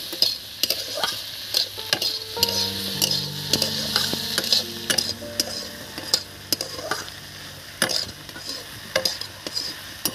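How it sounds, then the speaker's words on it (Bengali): A metal spatula stirs and scrapes brinjal with egg in a frying pan, with steady sizzling under a run of close, rhythmic scraping and clinking strokes, no talking. "হ্যাঁ দেখুন খুন্তি নাড়ছে"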